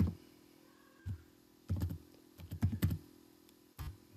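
Wallet passphrase being typed on a computer keyboard: several separate bursts of close keystrokes, some quick clusters of taps and brief pauses between them, with no talking.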